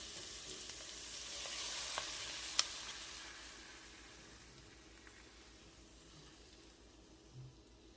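Onions and garlic fry in a pan for a veggie stew, giving a soft, steady sizzle with a brief clink near the start, fading gently and heard on its own.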